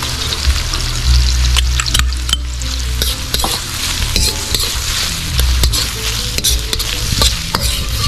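Garlic and red onion sauté in a hot pan with a loud, steady sizzle, while a utensil stirs and scrapes against the pan in sharp clinks throughout and no one talks.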